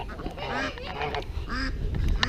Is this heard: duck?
yes